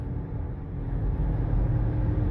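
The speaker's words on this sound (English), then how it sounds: "It's got that budget sound. The budget four cylinder sound." A Toyota Tacoma regular cab 4x4 with a budget four-cylinder engine gives a steady low rumble that builds slightly in loudness as it accelerates.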